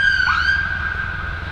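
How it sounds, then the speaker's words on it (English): A single airport siren at Birmingham airport, sounded to scare birds, holds a steady loud wailing tone with a quick upward sweep at the start, heard up close with no talk. "Not normally hear the sirens unless there's a proper emergency."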